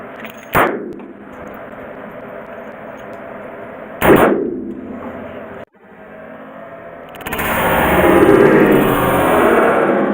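A .44 Magnum revolver fires a few loud, sharp shots spaced seconds apart, each followed by a ringing decay, then a stretch of sustained broadband noise.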